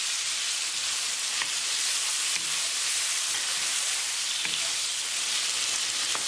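Beef, bell pepper and tomato stir fry sizzles steadily in a pan, a dense bright hiss with occasional soft scrapes and clicks from stirring, no voices.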